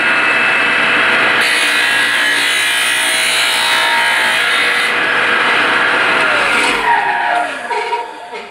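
A TaylorCut saw with coolant on and motor running cuts square stock held on a V-block, a loud steady grinding whine that persists for most of the span before tapering off near the end.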